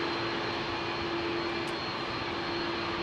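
An Icelandair jet airliner in new livery at London Heathrow gives a steady, distant engine roar with a constant whine, heard alone without voices.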